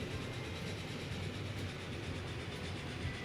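A train rolls in the Transport Fever video game with a steady low rumble and rail noise, continuous and fairly faint, no voices over it.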